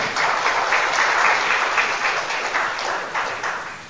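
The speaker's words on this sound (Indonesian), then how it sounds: "Tepuk tangan." An audience gives a moderately loud round of applause, a continuous blend of many hands that stays steady for a few seconds before tapering slightly.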